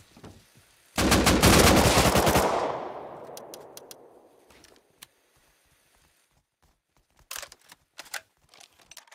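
Gunfire in the online survival game Rust Console Edition: a loud, rapid automatic burst that lasts about a second and a half and then rings out, followed later by a few sharp scattered shots.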